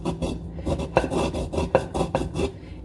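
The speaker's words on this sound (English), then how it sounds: "For the lemon zest, I'm gonna use this part of the grate, okay?" A lemon is rasped across a grater for zest in short, quick rhythmic strokes, about a dozen scrapes, close and fairly quiet.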